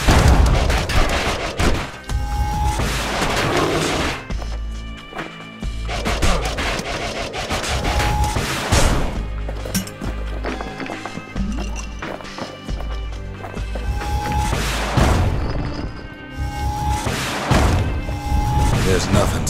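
Heavy weapons in the game Bastion fire in booming, thudding shots and rattling volleys amid game effects and music, while a narrator's voice speaks over parts of the action.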